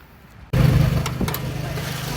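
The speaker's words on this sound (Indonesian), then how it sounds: "Itu kondisi mesinnya masih halus, masih normal semua." A 2007 Suzuki SX4 X-Over 1.5 automatic engine catches after a short quiet moment, then idles smoothly and steadily close by, with no voices.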